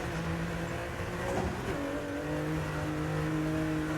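Rally car engine in EA Sports WRC on a snowy, icy stage, droning steadily with harmonic tones that shift pitch as it revs up and settles, loud and close throughout with no talking.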